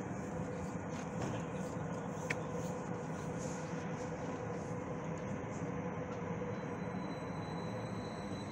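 A steady low rumble of a train on rails in Canada, constant and fairly loud throughout with faint higher squeals, no voices.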